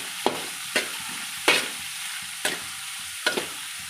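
Onions frying in a pan on a gas stove with a soft, steady sizzle, punctuated by five or six sharp scraping stirs of a spatula at roughly regular intervals.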